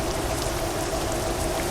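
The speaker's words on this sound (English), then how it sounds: "But we got some rain here." In the Euro Truck Simulator video game, rain falls steadily as a dense, even patter and hiss, moderately loud and continuous through the short moment, with no talk.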